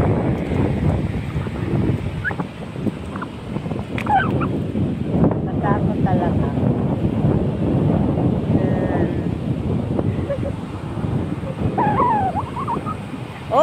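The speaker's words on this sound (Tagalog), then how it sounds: "Ang laki ng alon." Big ocean waves roll and crash at a surf beach, giving a continuous loud roar with wind buffeting the microphone and occasional voices and cries nearby.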